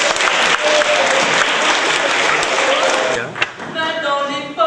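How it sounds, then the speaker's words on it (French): Loud applause from a theatre audience fills most of the stretch, dense and steady, easing briefly near the end as a sung musical-theatre line starts to come in over it. "On les applaudit d'avance."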